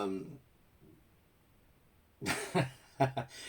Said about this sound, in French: Ah, il tousse le papy.